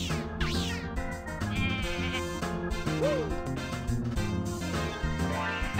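Sheep in a video game bleat in wavering cries over busy, loud game music and sound effects, with several bleats scattered through the few seconds.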